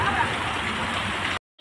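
Heavy rain with hail pours down steadily outdoors during a violent storm with strong wind, giving a dense, continuous roar that cuts off abruptly near the end.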